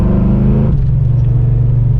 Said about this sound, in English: That intake sound